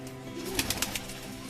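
Kaldum pigeons, a pair of fancy breed birds kept by a Kolkata-style pigeon fancier, give soft low coos in a short run of pulses, close by and alone without talk.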